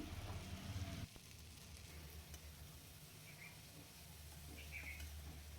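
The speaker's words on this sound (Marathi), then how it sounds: "कांद्याची पात छान परतून घ्यायची" Chopped spring onion greens sauté in a pan with garlic, turmeric and asafoetida, giving a steady, soft sizzle with faint stirring noises throughout.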